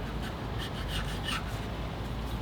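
A carbide tool scrapes and cleans the gasket surface on a Ford 5.0 V8 in a 2019 F150, giving a faint, continuous rasping rub with a few slightly louder strokes.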